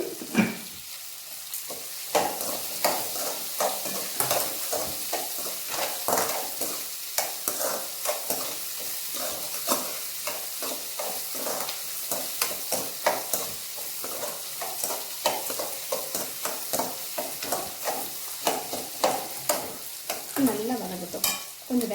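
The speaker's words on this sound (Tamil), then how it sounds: "நல்லா வதங்கட்டும்." Chopped onions with rock salt sizzle and fry in a pan, with frequent scraping stir strokes throughout, close and steady, with no talking.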